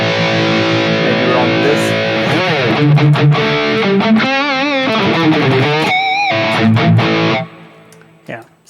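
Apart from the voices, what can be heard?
distorted electric guitar through Mooer GE-1000 with high cut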